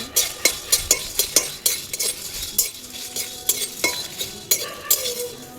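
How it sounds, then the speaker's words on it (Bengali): Peppercorns, dried chillies and cumin rattle and scrape as they are dry-roasted in a hot pan, a run of sharp stirring clinks and scrapes in an uneven rhythm, close and fairly loud, with a faint sizzle beneath and no voices. "শুকনো লঙ্কাগুলো একটু হয়ে আসলেই জিরেটা দিয়ে দেবো একটু করে ভেজে নিচ্ছি"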